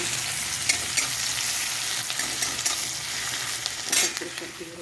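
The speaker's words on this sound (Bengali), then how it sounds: "এইবারে আমি আসলে এই যে আলুটা দিয়ে দিলাম, তো একটু কষিয়ে নেবো" Potatoes sautéing in a spice masala give off a steady, close sizzle and crackle, with occasional stirring scrapes and spatters rising over the frying, and no voices.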